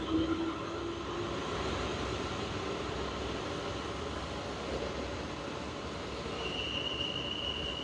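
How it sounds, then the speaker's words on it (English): A Portsmouth train rolls through Basingstoke railway station with a continuous rumble of wheels on rails, faint wheel squeal and a distant tonal whine, heard from the platform without talk. "And there's a Portsmouth train."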